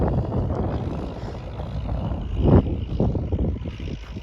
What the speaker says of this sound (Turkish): Şöyle traktör gelirken de bir çekeyim.